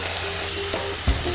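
Sunchoke pieces are stirred as they fry in a pan, giving a brief, close sizzling hiss with a scrape or two from the spoon and no talking.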